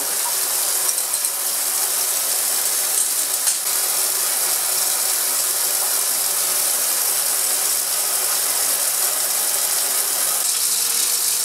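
A constant hiss and gurgle of a slow vacuum filtration of a nickel oxalate suspension running steadily, with a faint mechanical whir underneath and small bubbling ticks.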